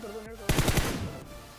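Automatic gunfire in the video game PUBG: a sudden loud burst of rapid shots that cuts in after a quieter moment of game sound and then decays into a fading echo.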